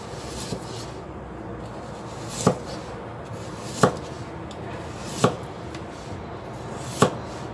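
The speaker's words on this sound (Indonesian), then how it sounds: "Dan kita potong-potong memanjang." A knife chops peeled carrots lengthwise on a board in four sharp, evenly spaced strikes, close and clear over quiet kitchen background.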